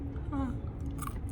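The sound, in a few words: chewing a pecan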